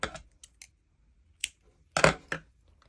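Scissors snip through crochet yarn in a few quick, sharp clicks close by, with a louder double cut near the end and quiet gaps between.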